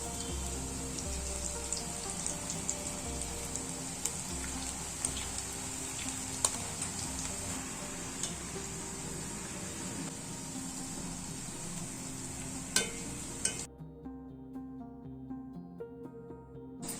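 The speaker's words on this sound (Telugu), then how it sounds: "ఇప్పుడు వేడి అయింది కదా, మనం పకోడీ వేసుకున్నాము" Palak and onion pakodi fry steadily in hot oil, a dense continuous sizzle and crackle that holds loud for most of the stretch, then drops away abruptly near the end.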